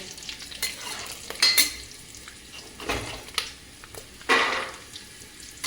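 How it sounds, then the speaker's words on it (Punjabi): Almonds roast in a pan over a soft, continuous sizzle, and several sharp scraping stirs sound up close at irregular moments. "ਬਦਾਮ ਆਪਣੇ ਰੋਸਟਡ ਹੋ ਗਏ ਦੇਖੋ ਛੜ ਜੇ ਕਰਨ ਲੱਗ ਗਏ"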